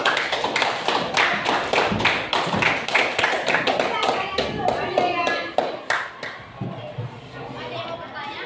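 Classroom of students applauding a student group after a presentation: dense, close clapping for several seconds, thinning out as murmured chatter and voices take over toward the end.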